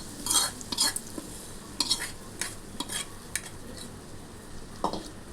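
A utensil scrapes and stirs through vegetable fried rice in a pot in irregular strokes, with a soft sizzle underneath.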